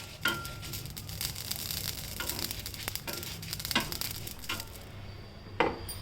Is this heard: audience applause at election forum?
no